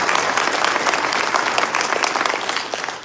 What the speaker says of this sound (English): Let's put a round of applause.